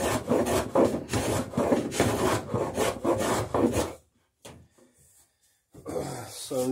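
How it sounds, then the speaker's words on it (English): Rhythmic rasping strokes smooth saw marks on a wooden boat strake, a quick series of coarse scrapes up close, then a brief quiet gap with a few faint touches before the scraping resumes. "I'm just smoothing up the saw marks there a bit"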